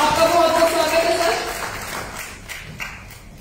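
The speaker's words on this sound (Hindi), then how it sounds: "तो प्लीज जोरदार ताली के साथ स्वागत किया जाए डॉक्टर एच.एस. राव सर जी का।" An audience at an astrology conference at Constitution Club, Delhi, claps to welcome a speaker, a dense burst of applause that is loud at first and thins out and fades within about three seconds.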